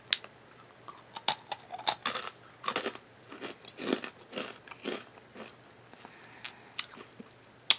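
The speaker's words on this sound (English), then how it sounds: "Like, the crunch is non-stop." Crunchy food bitten and chewed up close, a rapid run of sharp crackling crunches in irregular bursts, loud and steady throughout with no talking.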